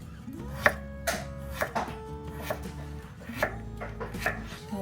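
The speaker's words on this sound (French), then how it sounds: "Pour les carottes, je vais couper déjà" A knife slices carrots into rounds on a board while cooking cabbage with knackis, giving irregular crisp chops about twice a second, close and fairly loud, with no talking.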